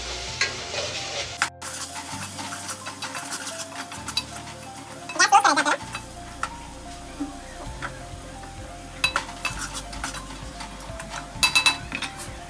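Spices for a village-style chicken curry fry in a pan with a continuous sizzle, broken by scraping stirs and metallic clinks of a utensil against the pan, with some talking in the background.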